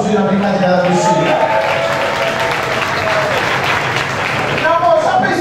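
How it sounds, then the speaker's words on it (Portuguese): A stage show audience applauds at a matinee performance, steady dense clapping that fills the space, with voices talking over it throughout. "o público aplaudiu a brincadeira do Chico"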